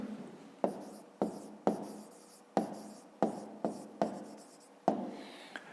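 A pen writes on paper while a fifth-grade math exercise is solved, with a series of short scratchy strokes in an uneven rhythm, each starting sharply and fading, close and quiet.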